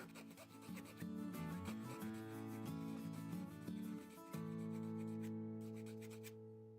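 A Bandai HG 1/44 Gundam Age-1 Titus plastic kit part is rubbed close up, a soft continuous scraping with a faint tonal hum running underneath and no talk.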